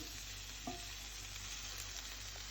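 Steady, quiet sizzling of vegetables frying in a pan, with a soft clink or stir partway through and no talking.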